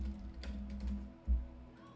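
Quiet, irregular taps on a computer keyboard as a name is typed in, a short burst of soft keystrokes with a slightly heavier press near the end, no voices.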